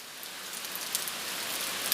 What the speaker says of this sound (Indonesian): Air hujan mulai turun membasahi area pemakaman.